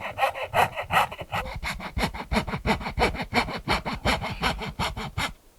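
A coping saw cuts wood in a fast, steady rhythm of short back-and-forth rasping strokes, close and fairly loud.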